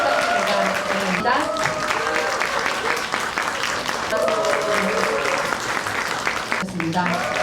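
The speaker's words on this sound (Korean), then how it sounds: "뜨거운 박수 부탁드립니다." Warm applause at a community self-governance forum for invited residents and local administrators, a dense continuous clapping from a seated crowd, loud and even, with music tones sounding beneath it.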